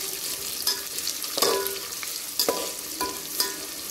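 Onions frying over a high gas flame for chicken dum biryani give a steady close sizzle, broken by several sharp clanks and scrapes of a spoon against the pan.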